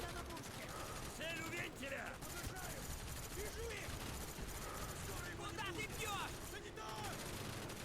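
Rapid bursts of gunfire crackle throughout over a dense, noisy background, with scattered whistling and pinging effects, in a busy battlefield in Call of Duty: Black Ops.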